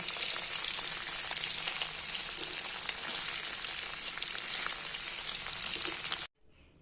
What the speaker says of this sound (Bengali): পনিরগুলো এভাবেই হালকা ভাজা দিয়ে তুলব।